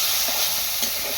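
Hot oil sizzles hard in a pan, a dense, loud close hiss with soft stirring scrapes running through it, no one speaking.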